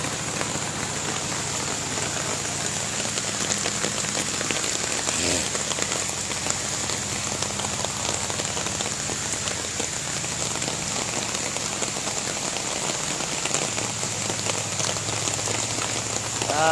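Heavy morning rain pours onto a flooded road, a dense, continuous hiss of drops striking water with a low steady rumble underneath.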